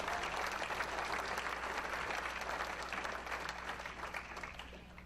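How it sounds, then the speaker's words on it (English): A crowd at a tribute event claps steadily for several seconds, dense even applause at a fairly distant, moderate level with no speech on top. "Yeah, you can clap for that."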